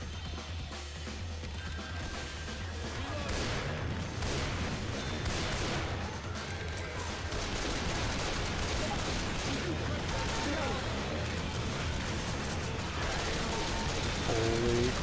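Sustained gunfire and explosions in Left 4 Dead 2 roar in a dense, continuous barrage of shots and crashes throughout, with voices talking over the chaotic game noise.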